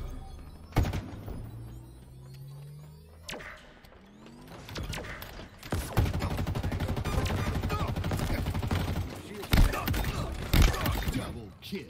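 Gunfire in the online shooter game Halo Infinite comes as bursts of automatic fire and sharp single shots with impacts and crashes, loud and close, with a voice talking in between.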